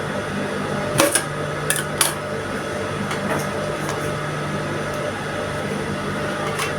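A home sewing machine runs steadily, stitching a seam along a half-inch line on fabric for a gown bodice. It makes a continuous mechanical hum with a few sharp clicks near the start.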